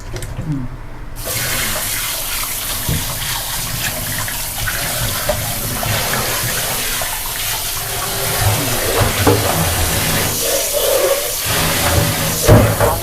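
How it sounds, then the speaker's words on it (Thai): Tap water running into a sink while raw pork is washed in salt water, a steady close splashing rush with small bumps of handling, growing slightly louder toward the end. "ก็จะล้างด้วยน้ำเกลือนะคะ"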